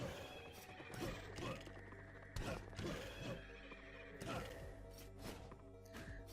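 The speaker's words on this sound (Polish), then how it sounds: "koń bez głowy." A headless horse neighs amid the Rogue Legacy game soundtrack, its whinnies repeating in several bursts over a steady musical bed, fairly faint overall.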